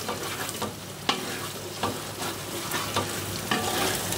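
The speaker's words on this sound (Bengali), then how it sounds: "তো অফ ক্যামেরাতে আমি মশলাটাকে কষিয়ে, দেখো মশলা কিন্তু কষানো হয়ে গেছে।" Spice masala stir-fried in a pan for a spicy beef curry cooked with chui jhal, with a steady sizzle and a scraping spoon that gives repeated sharp clinks, close up and without voices.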